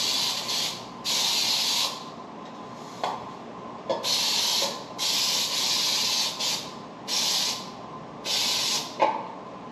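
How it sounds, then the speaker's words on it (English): Baker's Joy non-stick baking spray with flour hisses from an aerosol can into a cake pan in a series of about seven steady bursts, each a second or so long, close and loud, with short pauses between them. "I'm going to spray it. This is Baker's Joy. It's non-stick baking spray with flour in it."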